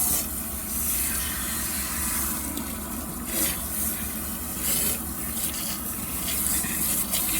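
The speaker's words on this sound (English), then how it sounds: "for the conditioner, I am rinsing it in cool water." Cool running water pours continuously at close range, a steady splashing gush with small shifts as a wig is moved under the stream to rinse out conditioner.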